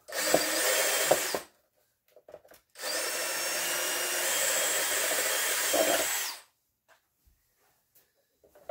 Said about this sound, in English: Where you can go through, just drill a hole.